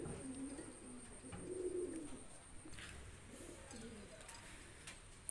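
Pigeons coo softly in low, rolling phrases that repeat faintly against a quiet, steady background.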